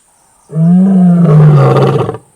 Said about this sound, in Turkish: uzaklarda kükreyen bir çöl aslanının yankısı